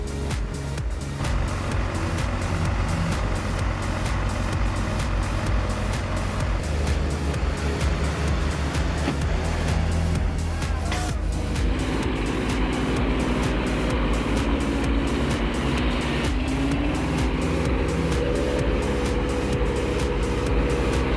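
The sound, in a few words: heavy timber-laden trucks with engines straining uphill in mud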